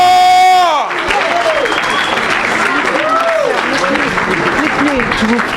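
A church congregation breaking into applause after a preacher's cry, dense clapping mixed with shouting and singing voices, loud and close, following a brief sustained tone at the start.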